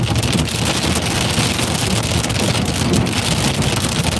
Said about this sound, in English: This is literally just hail that's hitting the trees